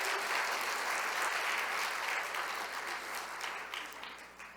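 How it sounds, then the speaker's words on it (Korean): A church congregation claps steadily during a Sunday service, a dense, even wash of applause that gradually fades toward the end, heard from across the sanctuary. "우리 박수로 하면 격려하겠습니다"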